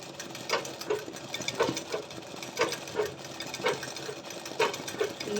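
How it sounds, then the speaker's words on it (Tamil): A foot-pedal sewing machine stitches embroidery, giving a steady, rhythmic clatter of needle strokes at about two per second, moderately loud and close with no talking. "இது நார்மல் மிஷின் தாங்க, நம்மளோட பெடல் மிஷினே தான்."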